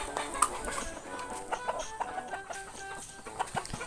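Backyard chickens in a rural province cluck softly in short irregular bursts, with an occasional sharper squawk among them, close by and fairly quiet.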